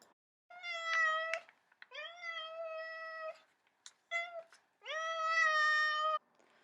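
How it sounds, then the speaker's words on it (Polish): A cat meows several times, long drawn-out wails with a rising pitch, close and clear against a silent background. "Brawo, był to kot"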